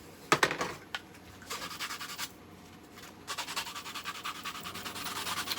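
SharkTac magazine holders are hand sanded up close, with a brisk scratchy rasp of repeated strokes, a burst early on, a brief lull, then a rapid steady back-and-forth rhythm.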